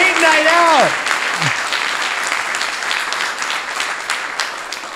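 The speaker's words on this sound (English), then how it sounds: "quick round of applause for the new parents in the audience on their" An audience at a live show claps steadily for new parents out on a date night, with a brief voice at the very start before the even applause continues throughout.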